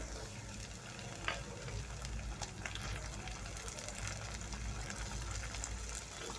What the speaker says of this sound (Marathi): टोमॅटो पण छान असे परतून घ्यायचे